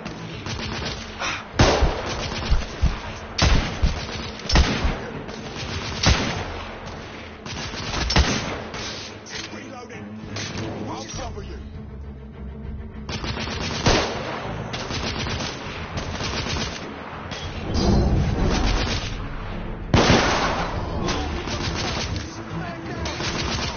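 Dense gunfire from The Order 1886 video game: rapid bursts and single sharp shots crackle near and loud over about twenty seconds, mixed with game music and occasional voices.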